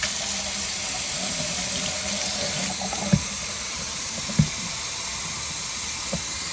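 Hot water runs steadily from a tap into the tank of a small spot-cleaning machine, a continuous close hiss and gurgle with a couple of brief knocks of the container.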